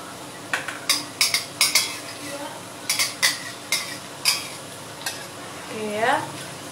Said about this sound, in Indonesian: Oke, kita goreng pakai api sedang aja.